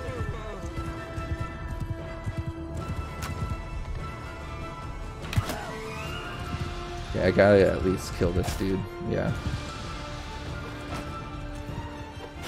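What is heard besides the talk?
horse hooves galloping in Mount and Blade Bannerlord video game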